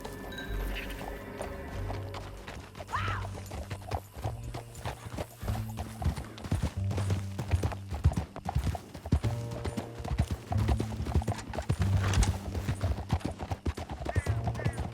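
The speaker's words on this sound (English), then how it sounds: "Back on your horse, let's get after them." Steady clip-clop of a galloping horse in Red Dead Redemption 2, rhythmic hoofbeats under a droning game soundtrack, with a brief whinny near the start.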